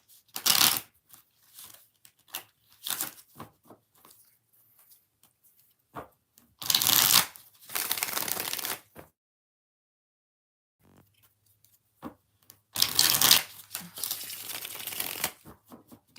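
Tarot cards are shuffled in several separate bursts of quick riffling flutter, close by, with quiet gaps and a few soft taps between.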